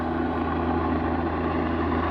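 A firefighting helicopter carrying a filled water bucket flies over the Wears Valley wildfire, its rotor and engine a steady, fairly loud drone that holds evenly throughout with no voices.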